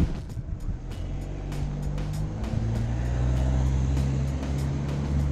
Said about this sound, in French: Là, je vais me faire emmerder par une voiture.